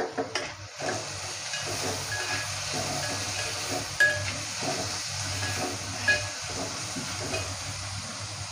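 Onions sizzle in a pan as they are sautéed for an Agari Koli style prawn curry, a steady crackling hiss with occasional stirring scrapes and small pops, close and moderately quiet, with no talking.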